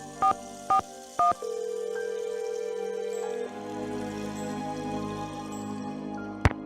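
Telephone keypad tones in the Nancy Drew game Secret of the Scarlet Hand: three short, evenly spaced dual-tone beeps, then a steady electronic tone that carries on behind a soft synthetic hum.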